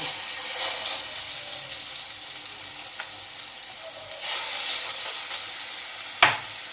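Chicken burger patties fry in a little refined oil, a steady bright sizzle running throughout with small crackles and one sharper clatter near the end, close and alone without talk.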